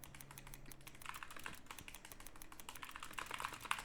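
Quiet, rapid clatter of fingers typing on a computer keyboard, a steady stream of small clicks with brief pauses and a few sharper keystrokes near the end.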